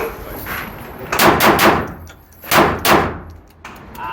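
A pistol fires Maxxtech ammunition from a Sig Sauer magazine: four loud, sharp shots in two quick pairs, each with a brief echoing tail.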